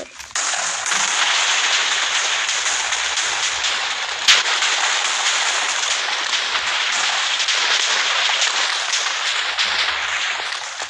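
TNT blasts in a blocky building video game come as a dense, continuous roar of overlapping explosions, loud and sustained throughout with one sharper crack in the middle.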